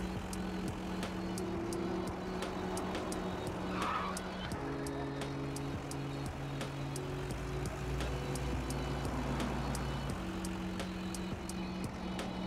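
A car in the Food Truck Simulator video game skids sideways across the road and runs into a parked car, with a steady engine drone and scraping tyre noise running throughout.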